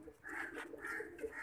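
Champion jet pigeons from a 2021 line coo softly in short, repeated low calls, a few murmured phrases close by over quiet background hiss.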